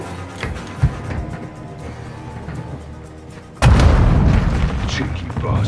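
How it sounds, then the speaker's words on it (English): A grenade goes off in Call of Duty: Modern Warfare 2 on Xbox Series X, as a sudden heavy boom that rolls into a sustained loud rumble over ongoing game sound and voices. "Grenade!"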